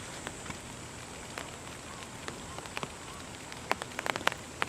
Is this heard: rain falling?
yes